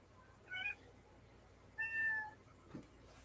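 Two distinct meows from a house cat, the second longer and drawn out, close by in an otherwise quiet room.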